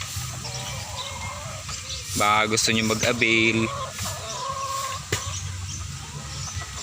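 Chickens and fighting cocks clucking and squawking at a small backyard poultry farm, with a burst of loud calls in the middle, someone speaking over them, and a steady low background hum.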